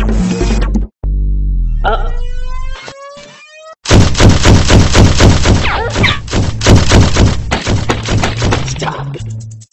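Cartoon gunfire in an animated adventure, a dense burst of rapid rattling shots over music and effects, loud and continuous for several seconds after a sparse stretch of tones and brief hits.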